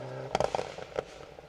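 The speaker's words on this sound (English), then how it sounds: "The popping and the banging of the anti-lag" Sharp pops and bangs from the anti-lag system of a Mitsubishi Evo 9 rally car on a forest stage, a quick loud cluster of cracks over engine noise.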